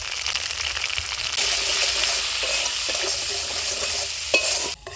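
Panch phoron, ginger and green chili paste frying in hot oil, a steady close sizzle with scraping stirring strokes running through it, growing louder partway and ending with a brief clatter.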